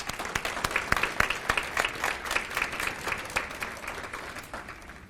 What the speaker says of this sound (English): Please give these gorgeous subdivisions a round of applause.